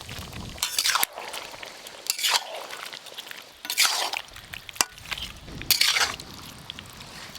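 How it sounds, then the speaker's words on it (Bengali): Chopped onions are stirred in a pan for chicken curry, with repeated scraping strokes of a spoon against the metal and a soft wet squish and sizzle, close and steady. "এবার এইভাবে ভালো করে নাড়তে থাকবো।"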